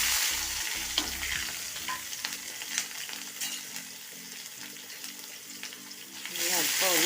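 Curry leaves with crushed ginger and garlic fry in oil for squid thoran, making a continuous close sizzle with occasional stirring scrapes under faint background music.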